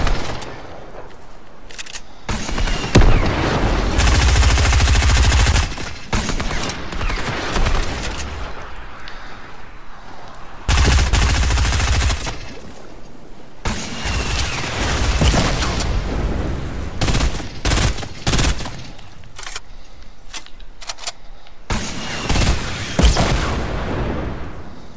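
Bursts of automatic gunfire in Fortnite, several loud sustained volleys separated by quieter stretches and scattered single shots, close and dominant with no talking.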